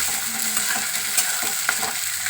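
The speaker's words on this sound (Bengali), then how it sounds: "পেঁয়াজটা ভাজা হোক" Onions fry for mutton biryani, a loud, dense, continuous sizzle with light stirring scrapes close by, with no voices.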